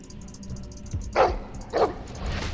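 A dog barks in a Game of Thrones video game, with two loud, close barks about half a second apart over quiet background game sounds.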